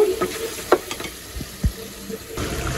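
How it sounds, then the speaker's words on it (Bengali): Beef frying in a pan, with a low sizzle under scattered scraping and clinking of a spoon stirring, some sharp knocks against the pan. "ফাইনালি আমার গরুর মাংস কষানো হয়ে গেছে"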